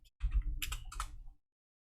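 A quick burst of close, crisp computer keyboard taps enters a search, lasting about a second before stopping into silence.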